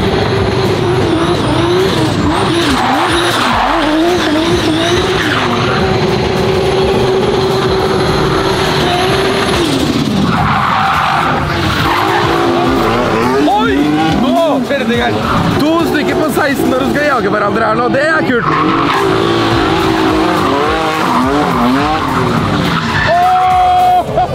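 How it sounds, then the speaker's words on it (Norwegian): A rear-wheel-drive Hyundai Veloster drifts at a motor show, its tires skidding and squealing in long wavering screeches over a loud engine, with crowd noise and voices throughout. "Og nå er den blitt bakhjulstrekk og kjører drifting."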